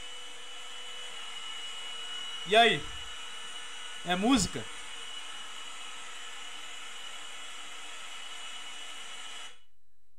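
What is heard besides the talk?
vacuum cleaner running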